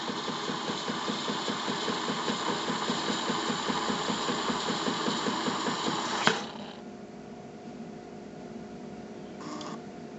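A Jura Impressa GIGA 5 coffee machine steams and foams milk for a drink with a steady, pulsing mechanical hum, which cuts out abruptly partway through, leaving a quieter whir and faint clicks.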